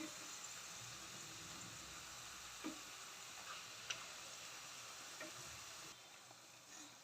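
Cassava chips fry in oil with a faint, continuous sizzling hiss broken by a few soft pops and ticks. The sound is quiet and heard alone, with no talking.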